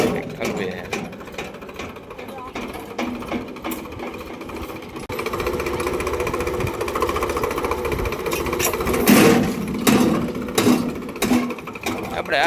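A tractor engine chugging with rhythmic knocking while sand is loaded outdoors, steady and fairly close, with scraping and thumps mixed in and some voices talking.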